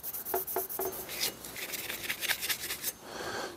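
A rusty axe head is scrubbed by hand with an ultra fine Scotch-Brite pad, giving quick rhythmic rasping strokes up close, steady and fairly loud.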